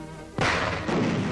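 A 4.2-inch chemical mortar firing white phosphorus shells for a 1943 smoke-screen demonstration, heard as a single heavy, booming thud that rises suddenly and then rolls on in a sustained rumble.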